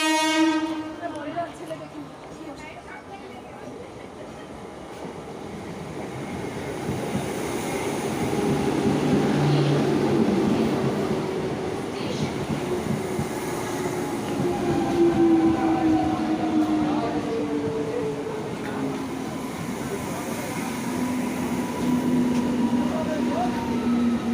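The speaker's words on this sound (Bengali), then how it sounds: "এই যে ট্রেন ঢুকছে বর্ধমান হাওড়া" A Bardhaman–Howrah train rolls into a station with a loud rumble and rattling wheels, and a horn sounds as it slows. Voices can be heard over the noise.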